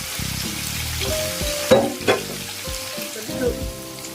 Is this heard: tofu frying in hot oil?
yes